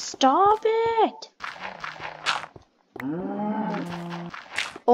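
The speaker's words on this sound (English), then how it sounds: "Oh my goodness, just shut up, cows!" Mooing cows in the oldest version of Minecraft, several harmonic, sliding low moos in quick succession mixed with a player's excited talking over the top.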